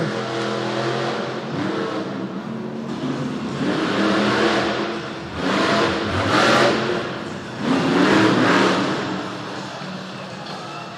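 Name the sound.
monster truck engines revving at race start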